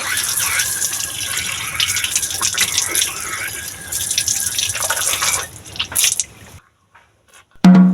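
Tap water runs and splashes in a sink while someone washes their face, a close hissing stream that stops near the end, followed by a brief thump.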